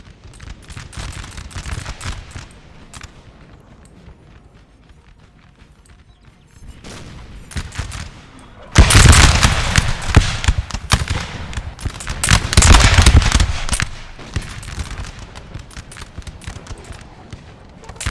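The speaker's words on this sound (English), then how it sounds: "Especially when they start at one end and just start firing down the line" Musket volleys ripple down the line in a Napoleon Total War battle, a dense crackle of many shots, quieter at first, then swelling into two loud bursts of rolling fire.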